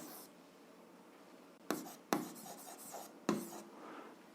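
Pen strokes writing out a seventh-grade algebra solution: soft, steady scratching broken by a few sharp, close taps and quick scrawls, with no voice.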